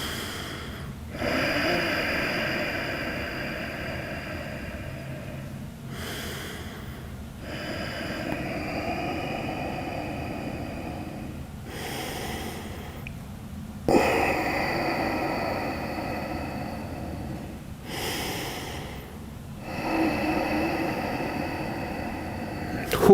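Slow, deep breaths during a wrist stretch for BJJ, each long inhale and exhale close and clear, about five full cycles spaced evenly with quiet gaps between them.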